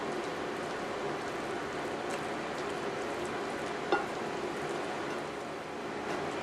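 Picadillo meat filling fries steadily in a pan over medium heat with a continuous close hiss and crackle, plus a brief sharper clink near the middle as it gets stirred.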